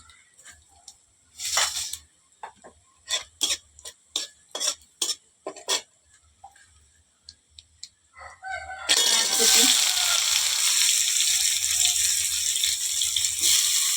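Whole spices, bay leaf, cumin and dried red chilli, crackle in hot oil with sharp separate pops. Then chopped onion goes into the pan and a steady, loud sizzle takes over.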